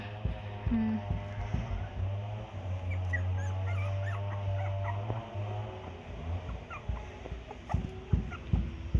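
Young puppies whimper and yip in thin, high cries, several overlapping, over a low steady hum with some nearby shuffling and knocks.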